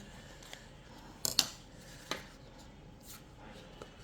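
Quiet, sparse snips of scissors: a quick double cut, then a few single clicks, close by against faint background hiss.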